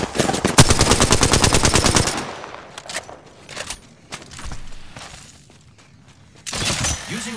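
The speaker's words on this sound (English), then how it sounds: "I am taking fire, friends." Machine-gun fire in the Apex Legends battle royale game rattles loudly in a fast burst, followed by scattered shots, footsteps and impacts, then another heavy burst near the end.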